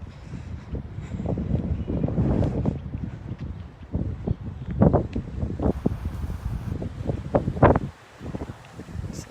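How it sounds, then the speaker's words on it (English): Gusty wind blowing outdoors on a residential street, rumbling and buffeting the microphone in uneven surges with rustling, a steady moderately loud roar throughout with no talk. "It's gonna get maybe a little windier around here."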